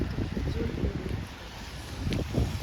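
Strong wind in Syktyvkar, Komi Republic, buffets the microphone in a steady low rumble, with gusts swelling toward the end, while people talk faintly underneath.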